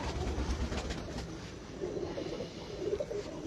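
Low, faint cooing from breeding pigeons in a loft recurs in short murmuring phrases under a steady rumbling background noise, with no voices.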